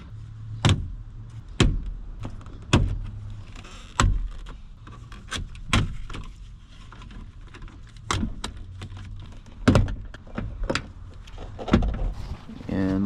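Car door panel being pried off to reach the side mirror on a 454 vehicle: sharp plastic clip pops and knocks recur every second or so, close and loud, with a low hum underneath.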